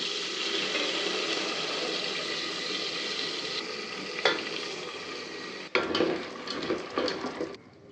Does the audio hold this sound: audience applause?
no